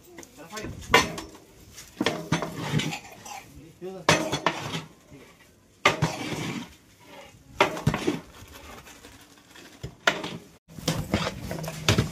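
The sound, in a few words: stirring and mixing semolina in a pot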